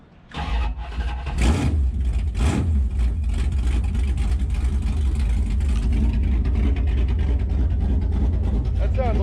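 A Plymouth Duster with a 340 V8 engine cranks and catches, then roars into a loud, raw, unmuffled idle through open headers that runs steadily to the end, with a voice talking over it.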